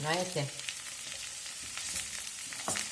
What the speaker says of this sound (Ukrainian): я от помішую цю картоплю, аби вона була така